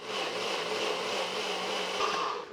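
A blender whirs steadily at close range, pureeing peaches with lemon and sugar, with a loud continuous motor roar that runs without a break and eases off only at the very end.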